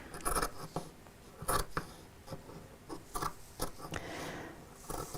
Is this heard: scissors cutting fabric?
yes